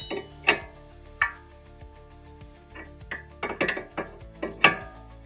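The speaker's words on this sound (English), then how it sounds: "now we just need to tighten up our jam nut" A wrench tightens the jam nut on the outer tie rod end of a 2005-2014 Ford Mustang, giving a series of sharp metallic ratcheting clicks and taps spaced irregularly, close up and fairly quiet.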